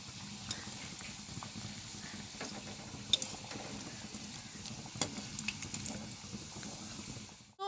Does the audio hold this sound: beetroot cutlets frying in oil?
yes